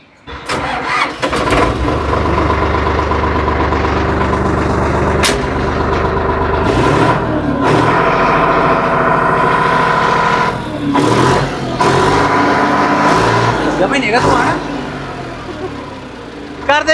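A diesel tractor engine cranks and catches, then settles into a loud, steady chugging idle with a few bursts of revving.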